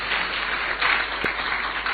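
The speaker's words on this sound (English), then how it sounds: "Please give him a round of applause." Applause at a presidential dialogue with organised labour, a steady, moderately loud patter of many hands clapping that swells briefly midway, with one faint low thump and no speech.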